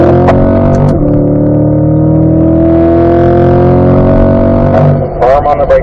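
A Chevrolet C8 Corvette pulls hard on track, its engine note climbing loud and steady, then a brief drop as it shifts up to fourth before settling again, with a voice speaking over it.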